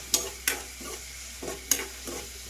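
Tomatoes frying in a pan for a North Karnataka lentil dish, with a soft steady sizzle broken by a series of sharp scraping stirs, close and fairly quiet, without talk.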